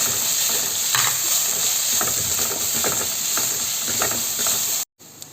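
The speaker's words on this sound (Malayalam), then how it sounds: "ചതച്ച് വെച്ചിരിക്കുന്ന ഇഞ്ചി വെളുത്തുള്ളി അതുപോലെ ഒരു പച്ചമുളകും കൂടി ചേർത്തതാണ് അത് നമുക്കിതിലേക്ക് ചേർത്തിട്ട് അതും കൂടി ഒന്ന് നന്നായിട്ട് വഴട്ടിയെടുക്കാം" Onions sizzle steadily in hot oil with curry leaves, crushed ginger, garlic and green chili for a beef and Chinese potato pepper masala, while a spoon scrapes and stirs in frequent clicks; the sizzle cuts off briefly near the end.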